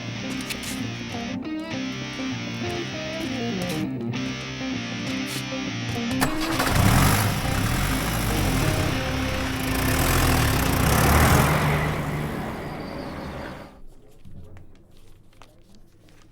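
A vehicle engine starts and settles into a steady idle, rising to a loud broadband rumble midway and then cutting out, with music heard early on.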